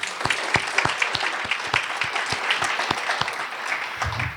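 Audience applause at a women's health forum, steady clapping from a modest crowd with distinct individual claps, sustained throughout without talk.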